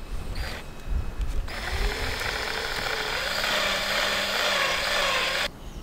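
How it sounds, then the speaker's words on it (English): A power drill bores a hole into the leaking spot of a rudder on a 35-year-old boat hauled out of the water, a loud, continuous grinding whine lasting about four seconds before cutting off abruptly. "just along the bit where it is leaking, just drill a hole to let the water out"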